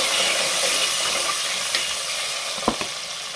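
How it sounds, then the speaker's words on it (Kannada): Onion fries with spices in a pan with a steady, close, hissing sizzle throughout, broken by a couple of brief stirring taps near the end. "ಇದೊಂದು ಚೂರು ಫ್ರೈ ಆಗಬೇಕು."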